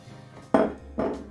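Bacon bits tossed into a bowl of al dente pasta in a kitchen, two soft, close clatters about half a second apart against a quiet background, no talking.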